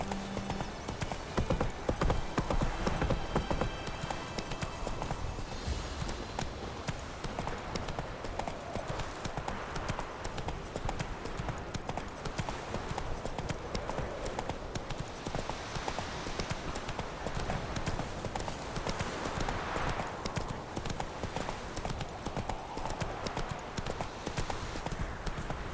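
Hooves clip-clop in a fast gallop as Roach, the horse in The Witcher 3: Wild Hunt, runs along. The beats are rapid and continuous for the whole stretch and sound close and steady, with a brief whinny-like sound partway through.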